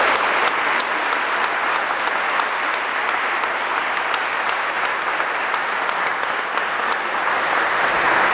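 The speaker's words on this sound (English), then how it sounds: "Let's give them all a round of applause." Audience at a district opening ceremony applauding, dense sustained clapping from many hands filling the whole stretch, close and even, with no speech over it.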